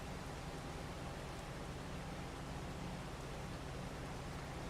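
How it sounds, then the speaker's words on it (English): Steady, even rain from Farming Simulator 22 makes a soft continuous hiss with no distinct drops or pauses, faint throughout. "I gotta get rid of this rain"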